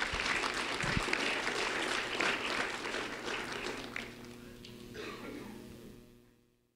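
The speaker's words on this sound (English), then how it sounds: "a round of applause for Dustin Benditz, please." Sustained applause from a crowd, dense clapping that holds steady, then thins and fades out toward the end.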